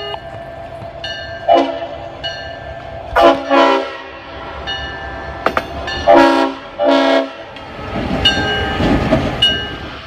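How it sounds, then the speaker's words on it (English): A CSX locomotive passing with its Leslie RS5T horn sounding a series of loud, mournful blasts, long and short, over the rumble and clatter of the train. "This is one of a few CSX locomotives to still proudly carry a Leslie RS5T, its mournful whistle sounding a fitting tribute"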